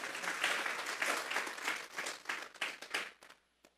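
A church congregation claps together as an offering of praise to God during a Spanish-language worship service. The applause is steady and lively, then thins and stops near the end.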